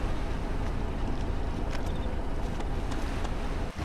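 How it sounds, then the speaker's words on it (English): Steady sloshing water and rushing wind noise around a boat in the video game DayZ, continuous and fairly loud with no talking. "Why is there water sounds just near the boat?"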